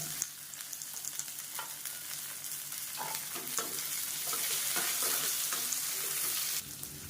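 Shallots sautéing in a pan for a chutney to serve with idli and dosa: a continuous close sizzle with a spoon scraping and stirring, clicks and clatter building midway before the frying quiets at the end.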